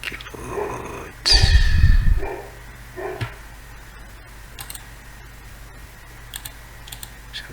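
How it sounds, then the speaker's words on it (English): A dog barks in a home office over computer keyboard typing, one loud burst of barking near the start followed by scattered faint key clicks. "I have a dog this side, likes to bark."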